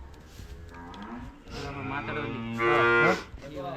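A cow moos at a village temple fair procession to Pataleshwara temple in Purigali, where sheep and cattle are led along: a few long, loud, close bellows, the last one strongest, over a busy outdoor background.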